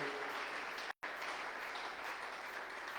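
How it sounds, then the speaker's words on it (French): A church congregation applauds during a service, a dense sustained wash of clapping heard at a distance, with a very brief dropout partway through. "Est-ce qu'on peut acclamer pour la parole du Seigneur?"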